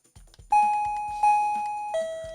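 An OMERIL wireless doorbell rings a three-note chime at a reduced volume setting. Each clear tone rings out and decays, the last one lower, over faint ticking clicks.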